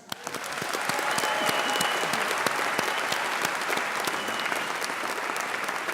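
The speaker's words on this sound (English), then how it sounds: "let's have a huge round of applause for families and friends" A large graduation crowd in Birmingham's Symphony Hall applauds for families and friends, a sustained, even roar of many clapping hands that swells quickly and holds steady.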